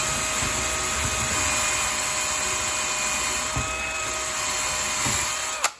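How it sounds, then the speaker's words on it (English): A steady, high-pitched drill whine runs continuously close by, drilling a hole through LVP/laminate flooring around a refrigerator cabinet, ending with a brief clunk as it stops. "all you're gonna do is take your drill, this is real simple. Drill out."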